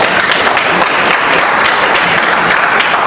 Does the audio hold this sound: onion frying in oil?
no